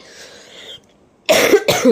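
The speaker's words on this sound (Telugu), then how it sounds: "మధ్యలో దగ్గు వచ్చేస్తుంది" Two loud, close coughs burst out back to back after a quieter stretch, each sharp and harsh.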